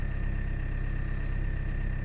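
A car engine idles steadily just after a cold start on a near-freezing day, giving a constant low, even rumble heard alone, close up and fairly loud.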